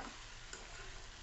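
Tinda (round gourd) sautés in hot oil for a spicy masala bhaji. A steady, even sizzle hisses throughout without a break.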